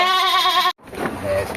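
A goat bleats loudly and close by in a long wavering call, then breaks off; afterwards someone talks about goats for sale at a livestock pen.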